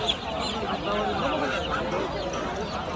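Native chickens cluck and murmur close by amid a busy market crowd, with voices chattering underneath.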